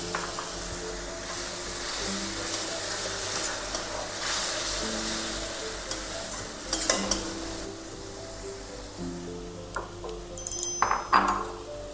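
Boiled chicken is stirred into spiced gravy in a hot pan for chicken kosha, giving a steady close sizzle with occasional metallic scrapes and clinks of the spatula against the pan.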